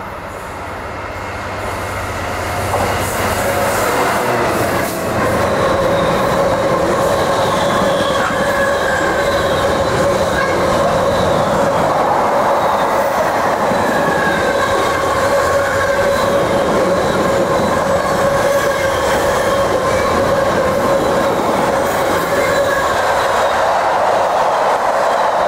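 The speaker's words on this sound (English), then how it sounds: "Another Freightliner Class 66 heads through platform 1." A Freightliner Class 66 freight train passes through a station platform on Great Eastern lines, a loud sustained rumble of engine and wagons building up in the first seconds then rolling on steadily, with wheel squeal and faint clickety-clack.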